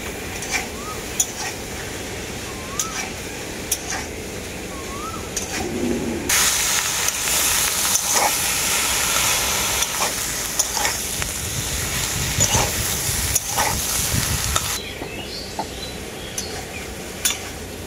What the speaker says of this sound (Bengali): এই সবজিগুলোকেও আমি খুব ভালো করে কষিয়ে নেব একসাথে।